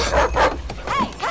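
In a film scene, a small dog yips and barks several times over a steady background bed, close and fairly loud, without talk.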